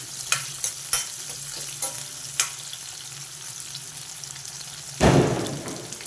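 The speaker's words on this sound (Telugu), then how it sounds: "సన్నగా కట్ చేసుకున్న ఉల్లిపాయలు వేసేసా ఇవి బాగా ఎర్రగా వేగాలి ఉల్లిపాయలు" Thinly sliced onions frying in a pan for a capsicum masala curry, with a few sharp clanks from stirring over a low sizzle and a louder burst of hissing near the end.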